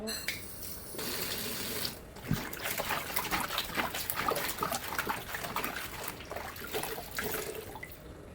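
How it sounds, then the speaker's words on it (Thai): Ordinary tap water runs from a faucet into a sink for rinsing, a steady splashing trickle that starts after a brief pause and continues with slight surges, close by and moderately quiet. "เดี๋ยวต้องล้างน้ำให้ดูด้วยนะคะ ล้างน้ำธรรมดาสองครั้ง"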